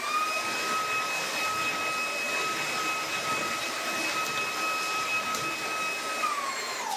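A Shark cordless vacuum runs on boost over a hard floor, a steady high-pitched motor whine over airy suction hiss, close and constant, with the whine dropping in pitch just at the end.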